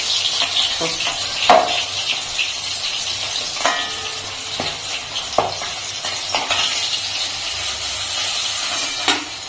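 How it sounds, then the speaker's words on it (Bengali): Pieces of rohu fish fry in hot oil with a loud, close, continuous sizzle, with bursts of spitting and occasional clinks of a utensil against the pan. "তো বাকি মাছগুলো ভেজে নেবো এক এক করে"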